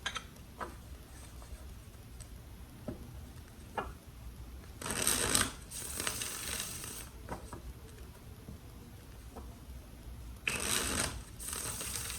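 Tarot cards being shuffled in two loud bursts separated by a long stretch of quiet, with a few soft taps and handling noises between them.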